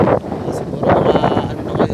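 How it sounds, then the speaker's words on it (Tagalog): Strong wind buffets the microphone beside a river, a loud rough rush that swells and dips in gusts, with a brief voice partly under it. "Malakas ang hangin."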